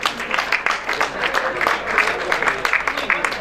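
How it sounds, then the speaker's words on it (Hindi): Crowd clapping at a boys' high school farewell party honouring a student bowler, brisk uneven claps from a mid-sized audience, steady throughout with a possible voice mixed in. "जोरदार तालियां मोहम्मद दाऊद के लिए।"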